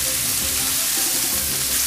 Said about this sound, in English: First, the mushrooms. And then I'm going to give them a little stir and a shake.